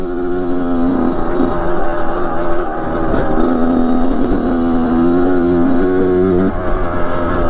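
A 2007 Kawasaki KX 100 dirt bike engine roars steadily on a test ride over rough, rocky ground, loud and close, its pitch rising and falling as the throttle changes, with wind noise and no talking.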